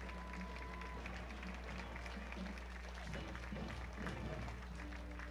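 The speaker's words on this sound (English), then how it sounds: "deserved round of applause from those here" Spectators at a Memorial Day parade applaud a marching military division, a soft, steady patter of outdoor clapping mixed with crowd murmur and a low constant rumble, faint and distant throughout.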